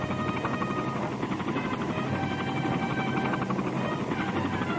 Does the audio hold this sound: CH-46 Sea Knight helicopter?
yes